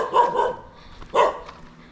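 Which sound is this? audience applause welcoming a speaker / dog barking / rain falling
dog barking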